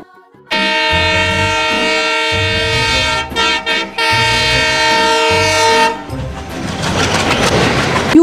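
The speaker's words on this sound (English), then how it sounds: "T for train." A train passes close by, sounding its horn in long loud blasts separated by brief gaps, ending with rumbling, rattling wagon noise.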